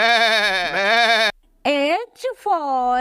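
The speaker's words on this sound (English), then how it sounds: "G for goat." A goat bleats in a children's animated alphabet song, giving long, quavering, strongly tonal cries, then a pause and two shorter bleats, loud and close with no talk over them.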